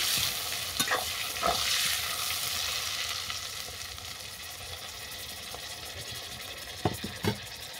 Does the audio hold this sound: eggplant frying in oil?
yes